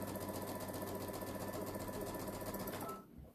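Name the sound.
sewing machine stitching quilt fabric strips together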